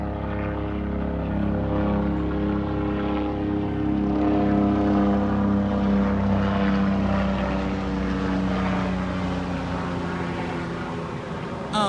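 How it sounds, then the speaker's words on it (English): A private helicopter, not a commercial craft, passes overhead with a steady, loud rotor and engine drone that holds for the whole stretch, with no talk over it. "I'm gonna let this helicopter go by here."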